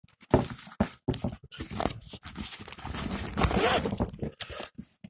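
Zipper on the large pocket of a DeWalt TSTAK soft tool bag being worked open in repeated close, loud scraping pulls with short pauses, plus rustling fabric and no talking.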